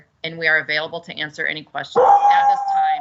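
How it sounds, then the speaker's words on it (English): A person speaks for a moment, then a dog close by lets out a drawn-out howling whine that continues to the end. "And I apologize for my dog."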